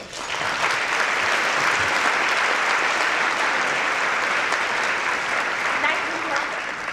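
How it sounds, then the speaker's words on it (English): Sustained applause from a tourism conference audience, dense and steady clapping that fills the whole stretch before tapering slightly at the end. "If we can give one round of applause for Ms. Darienne Mobley as she comes to the"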